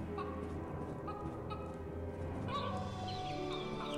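Cartoon hen clucking in the video game All of You, soft repeated clucks and chirpy bird calls over a steady background of game music, fairly faint and with no talking.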